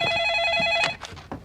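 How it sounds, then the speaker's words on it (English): A telephone rings with a bright electronic trill for most of the moment, loud and close, then stops as muffled voices begin. "I decided it was time to give my ex a friendly phone call."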